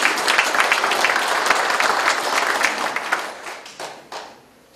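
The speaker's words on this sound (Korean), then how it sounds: "큰 박수로 맞이해 주십시오" A crowd at a retired police officers' association chairman's inauguration claps steadily to welcome a lawmaker to speak, and the applause thins and fades out over nearly five seconds.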